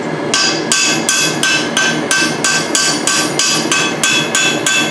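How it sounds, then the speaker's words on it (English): Steady hammering on a rivet while forging blacksmith tongs, about ten sharp ringing metal strikes in an even rhythm, close and loud with no talk. "Just to set the rivet."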